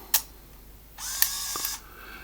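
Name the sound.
Kodak Snapic A1 film camera winding on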